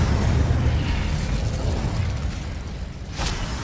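Incendio fire spell cast in the Hogwarts Legacy video game, a loud sustained whooshing, rumbling blast of game effects with a sharp bright burst near the end.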